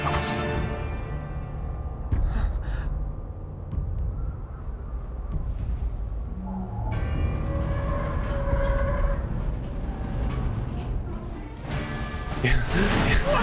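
A train from the Final Fantasy VII Remake game smashing its way through buildings, a loud sustained rumble and clatter with crashing bursts layered over game music, continuing across the whole passage.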